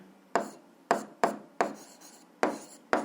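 Chalk or marker tapping and scraping on a classroom board while a physics formula is written, six distinct sharp strokes spaced evenly and close up, with no voices.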